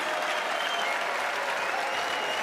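An audience applauds at an esports final in the Royal Albert Hall, a dense, steady wash of clapping throughout, fairly loud and unbroken.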